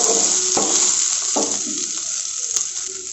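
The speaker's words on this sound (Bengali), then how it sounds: "এখানে এবার পেঁয়াজগুলো ভালো করে ভেজে নেব" Onions fry in a kadai, a continuous bright sizzle with a few scraping stirs of a utensil against the pan, close and steady.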